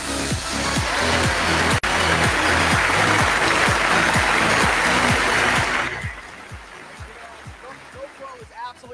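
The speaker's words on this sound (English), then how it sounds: "let's give a massive round of applause to Eric and Marina" Large event audience clapping in a thick, loud roar over a regular low thumping beat, then the applause drops off abruptly, leaving the beat and scattered sounds.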